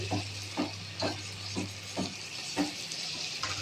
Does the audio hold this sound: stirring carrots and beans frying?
yes